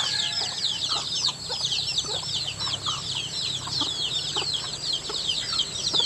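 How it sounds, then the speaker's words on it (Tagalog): Several hens cluck in short, scattered bursts close by, over a steady background of chirping birds. "yung 2 inahin pa na manok na hindi ko napakita sa inyo"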